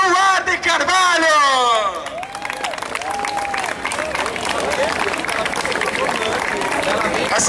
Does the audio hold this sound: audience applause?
yes